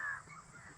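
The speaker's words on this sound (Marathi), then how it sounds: "सगळे कावळे ओरडतात काव काव करून" A single crow caws loudly and briefly nearby, followed by a quieter fading tail against faint background noise.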